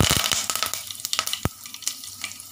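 Curry leaves hit hot oil where mustard seeds and cumin are already frying, crackling with sharp irregular pops and spits over a light sizzle, one louder burst standing out midway.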